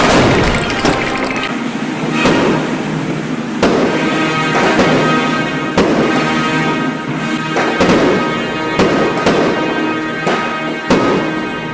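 Toy-brick scene of old German grenades set off in place of firecrackers, a loud rapid string of sharp blasts and crackles repeating close by for the whole stretch, no talk.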